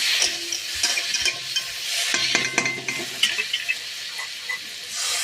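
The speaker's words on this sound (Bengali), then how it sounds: "তাই বেশিক্ষণ নাড়াচাড়া করবো না, হালকা নাড়াচাড়া করে" Malabar spinach and potatoes being lightly stirred in a hot pan, a steady sizzle with scraping spoon strokes and soft clinks against the metal, close and continuous.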